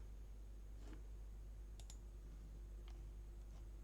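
A computer mouse gives a few soft, isolated clicks, including a quick double click, against a steady low hum in a quiet room.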